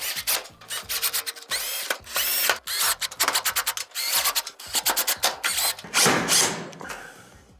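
A power drill drives screws into a Whirlpool stove panel during a repair for a no-heat thermal fuse fault, giving repeated short bursts of whirring and ratcheting clicks, close and loud, with no talk.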